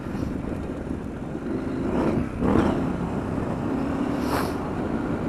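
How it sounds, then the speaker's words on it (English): A new 2022 KTM 890 Adventure R motorcycle engine drones steadily while riding over loose topsoil, with wind rumble over a continuous low growl and a few brief swells, heard close with no talking. "my camera's picking up this bike sound"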